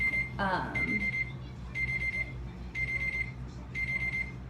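A high electronic beep pulses in regular bursts, one short set after another, with a brief voice heard near the start.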